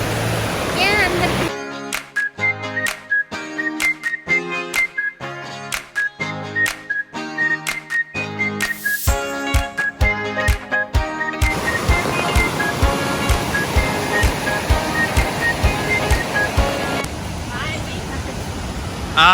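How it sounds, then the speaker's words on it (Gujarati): Water flows at the confluence of the Iller river among mountains in Germany, a broad steady rush that comes through clearly in the second half after rhythmic music plays over it at the start. "આ છે ને એ નદીનો સંગમ પોઈન્ટ છે. ઇલ્લેર નદી છે"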